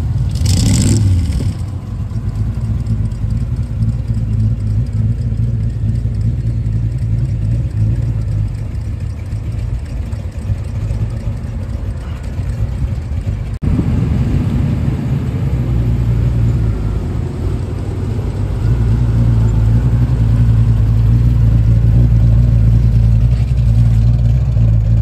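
Car burnout at the Eville Shindig burnout competition: a loud, steady engine roar with rising revs and heavy low rumble, sustained throughout and swelling toward the end.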